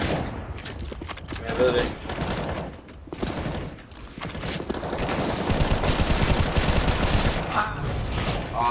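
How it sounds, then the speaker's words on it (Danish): Rapid bursts of automatic gunfire and single shots crackle through a round of the shooter game CS:GO, growing denser and louder toward the end, while someone talks over the shooting. "Jeg blev skudt forfra, jeg blev skudt bagfra."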